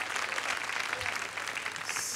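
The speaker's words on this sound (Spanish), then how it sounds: "Un aplauso entonces para Óscar Andrade." A television studio audience on a Saturday variety show claps in a short, steady burst of applause, dense and even, with no one speaking over it.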